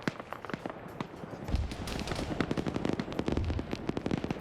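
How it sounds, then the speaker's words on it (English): Rapid gunfire and sharp launches in a modern military shooter game battle, with RPGs being fired amid dense bursts of shots and low thuds, loud and continuous throughout. "they're trying to fire RPGs into them"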